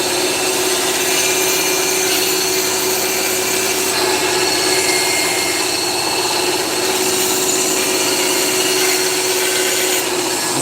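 A power tool grinds steadily while trimming the edges of a wooden musky crankbait, a constant loud buzzing whine with no breaks across the whole stretch.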